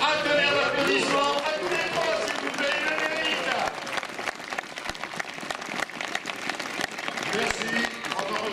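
Sustained crowd applause at a cyclo-cross championship, loud and dense clapping from many hands, with voices faintly mixed in, thinning slightly toward the end.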